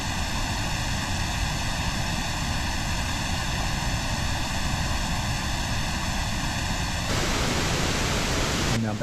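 Pink noise test signal heard through an audio system being evaluated, with notched, comb-filtered coloring for about seven seconds before switching to full-band noise, steady and loud throughout.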